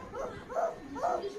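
A small child imitates a dog barking, giving three short yappy woof sounds in quick succession, close and fairly soft.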